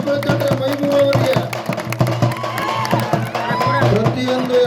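A festival crowd at a temple celebration in Manvi cheers and claps for a strongman's lifting attempt, a dense, steady roar of voices and applause with whoops throughout and some talking mixed in.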